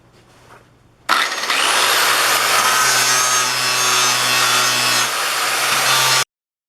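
A grinder runs on steel plate during weld prep, cutting down through fire scale, a loud steady whine that starts abruptly, holds for about five seconds and then stops sharply.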